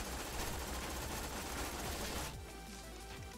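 Rapid gunfire from a War Machine weapon in a video game rattles in a fast continuous stream, then cuts off near the end, leaving a quieter tail.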